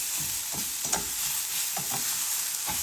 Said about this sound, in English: get your onions in there and sweat these down a little bit. Just toss these around with the rice.